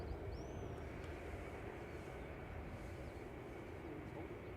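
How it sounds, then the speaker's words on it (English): An Aer Lingus airliner taxiing at Manchester Airport, a steady low engine rumble and broadband roar heard continuously from a distance outdoors, with faint bird chirps above it. "the Air Lingus is moving"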